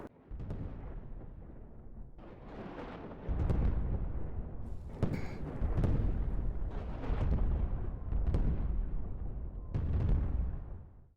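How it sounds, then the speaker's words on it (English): A giant barrage of blasts destroys the world in the video game WorldBox, with deep booming explosions erupting in several heavy waves that overlap and rumble continuously. "they hit the button and finished off the world with one giant barrage of blasts"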